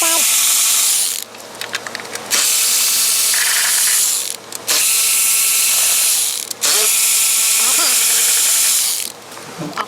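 A power ratchet or impact tool spins out 10 mm bolts on the upper intake of a 5.3 LT1 Silverado engine, making loud, close whirring bursts of a few seconds each, separated by short pauses.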